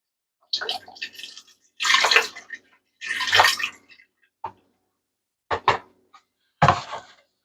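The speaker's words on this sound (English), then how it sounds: "We're going to put the entire container of the beef broth in there." Beef broth glugs and splashes out of its container into an Instant Pot in several close, separate pours with short pauses between them and no talking.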